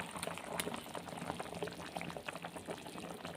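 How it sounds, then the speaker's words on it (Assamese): Potatoes boil in a covered pot, a continuous close bubbling and rattling churn at low volume with no talk. "দেখিছেনে বাৰু আলু সিজিবলৈ লৈছে"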